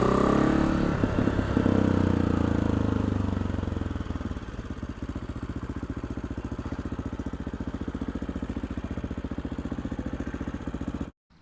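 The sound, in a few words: tuned AJP PR7 single-cylinder motorcycle engine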